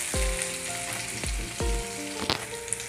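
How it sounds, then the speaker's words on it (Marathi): Ginger-garlic paste drops into hot oil, giving a bright, close, steady sizzle punctuated by several low thumps and ringing clinks of utensils against the pan. "तेल गरम झालं याच्यामध्ये अद्रक लसूणची पेस्ट टाकायचे."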